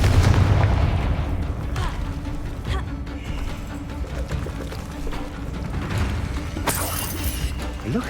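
Confringo fire spell blasts in Hogwarts Legacy, sharp shattering explosions and mechanical clanks over game music, with a character shouting spell names in places.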